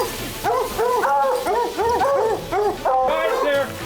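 Hunting dogs bark and yip in a quick, excited string of close, loud calls, several overlapping, with voices faintly beneath them outdoors during an elk hunt.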